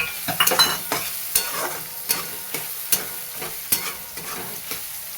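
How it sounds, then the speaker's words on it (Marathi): Peanuts and masala being stir-fried in a pan for kanda poha, with repeated scraping strokes of a spatula over a steady sizzle, close and fairly loud, no voices. "चांगलं परतून घ्यायचं याला"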